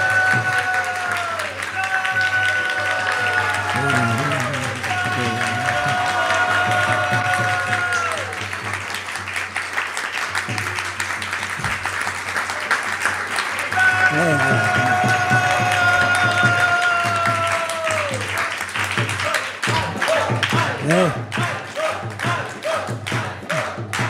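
A temple audience applauds to welcome His Holiness Bhakti Raghava Swami, steady clapping sustained across the room for a long stretch with thumps and voices mixed in underneath.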